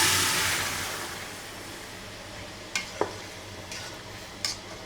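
Vegetable curry hits a pan of fried onion and five-spice seeds: a broad sizzle that starts loud and fades, with a few sharp spoon clicks against the pan while it is stirred.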